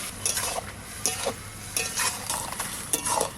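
Bottle gourd curry cooks in its own released water in a pan, a soft continuous simmering sizzle with a few intermittent stirring scrapes of a spoon against the pot.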